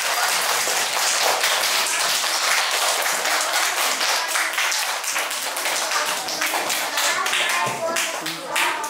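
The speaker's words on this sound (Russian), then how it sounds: "хлопайте, хлопайте." Children and an audience applaud at a Day of Knowledge first-grade celebration at School 29 in Makhachkala, a dense, steady patter of many hands clapping that stays close and loud throughout.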